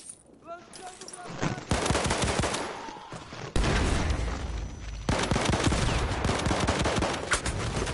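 Video game gunfire comes loud and close: a few sparse shots, then long rapid machine-gun bursts that cut off abruptly and resume, with dense crackling volleys filling most of the stretch.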